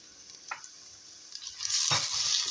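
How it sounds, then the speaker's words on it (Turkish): Soft sizzling of chopped onions and red peppers sautéing in a pan, growing louder near the end with a clatter of stirring. "Kavurmaya devam ediyorum."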